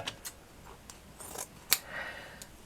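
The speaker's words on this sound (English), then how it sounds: "So I've just cut a piece." Scissors snip through lace for a handmade fabric flower, giving a few quiet, close cuts, then one sharper click of the blades, with no talking.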